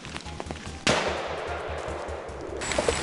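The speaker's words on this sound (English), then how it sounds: "Bursts of gunfire echoed through the trees." Gunfire aimed at wild boars in a forest rings out as rapid repeated shots over a steady mechanical thumping, with one sharp loud burst followed by a sustained wash of noise.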